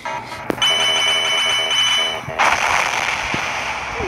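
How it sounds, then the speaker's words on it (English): An explosion in a video game, a sharp burst followed by crackling, ringing debris, then a second blast that leaves a rumbling tail with scattered pops. "The explosion is gonna be so big."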